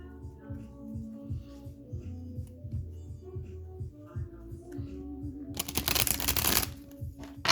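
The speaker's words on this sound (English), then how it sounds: "We're gonna shuffle." A deck of tarot cards is shuffled by hand in quick, soft riffling bursts, close and quiet, ending in a louder, brighter flurry of cards near the end.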